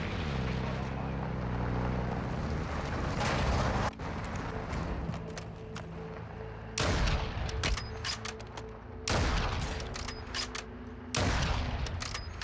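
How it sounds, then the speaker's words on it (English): Several sharp, heavy sniper rifle shots in a multiplayer shooter, spaced a few seconds apart and ringing out over a steady game background, with occasional voices in the mix. "Shots are hitting right now."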